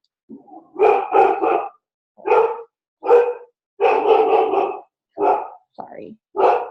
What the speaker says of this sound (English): I'm kind of stressing out because we just put Nolan down and now Remy's barking.